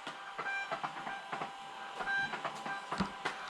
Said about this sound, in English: I want to share with you a sound that all of us that have Rolo printers love to hear